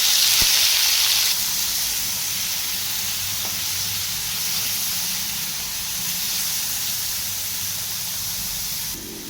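Onion and tomato frying in an iron wok, a steady close sizzling hiss that runs the whole time, louder in the opening second and easing slightly afterwards, with no talk over it.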